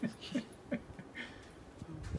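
A puppy whimpers and yips in short bursts while hunting for her ball in deep snow, close by, with faint snow rustling between the cries.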